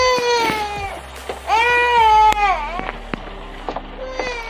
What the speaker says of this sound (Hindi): गाइस रोने की आवाज़ मुझे यहीं से आ रही है